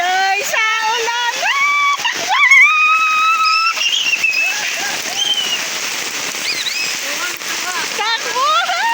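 Heavy rain pours down in a steady broadband hiss throughout while people shout and laugh loudly over it, their excited voices close and dominant.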